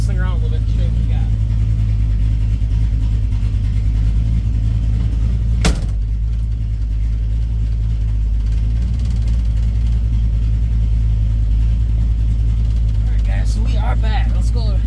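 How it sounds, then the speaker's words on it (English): A 1967 Mercury Cougar with a 289 V8 idles and rumbles low and steady close by as it gets driven around a shed, with someone talking over the engine and a sharp knock partway through. "Let's drive this thing around a little bit and show you what we got."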